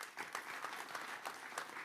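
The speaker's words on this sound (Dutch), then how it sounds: "En jou eens een applaus." Brief applause from a debate-night audience for participants in a local candidates' debate, a short burst of distinct, fairly quiet hand claps with a loose, uneven rhythm.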